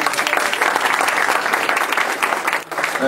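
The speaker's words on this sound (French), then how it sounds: "On peut l'applaudir d'ailleurs." Audience applause at a mixed martial arts weigh-in event, a dense steady clapping from a crowd lasting the whole stretch with a brief dip near the end.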